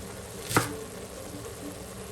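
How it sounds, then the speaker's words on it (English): A single crisp knife chop through spinach on a cutting board, close and brief, over a quiet kitchen hum. "You roughly chop it because it's all going to get cooked down."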